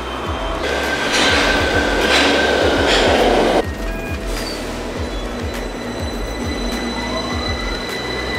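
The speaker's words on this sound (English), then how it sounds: "Now we're making our way through the Victoria Line underground, heading up to National Rail, where we're going to jump on a train" London Underground Victoria Line train rumbling and clattering through a station, a loud roar of wheels and rail noise with rhythmic clicks, dropping to a steadier rumble partway through.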